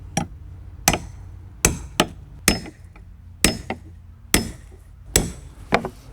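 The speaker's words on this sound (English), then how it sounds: "strike the back of the nail puller with a hammer" A hammer strikes the back of a metal nail puller set against a nail head on wooden deck boards. About ten sharp, ringing blows land at uneven intervals, close and distinct, with quiet pauses between them.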